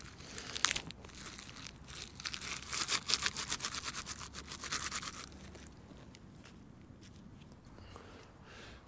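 Hands crunch and crinkle dry tree bark and twigs as kindling for a campfire in sub-zero outdoor conditions, a close, dense rustling crackle that swells in the middle and then fades to quiet handling.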